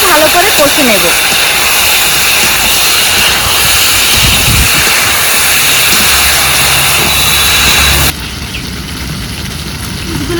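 Fried chicken leg pieces go into a pan of spiced masala, setting off a loud, continuous sizzling hiss that drops to a softer level near the end.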